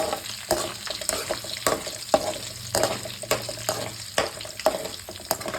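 Tempering spices and dry red chillies for an amla pickle sizzle and crackle in hot oil, with rhythmic scraping strokes of stirring every half second or so, close and fairly loud.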